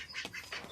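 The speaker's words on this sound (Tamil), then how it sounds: "வாத்துங்க." Ducks quack in quick succession, several nasal calls close by in a short burst.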